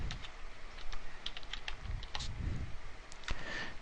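Rapid keystrokes tap out on a computer keyboard in a quick uneven run of light clicks, close and moderately quiet over faint background noise.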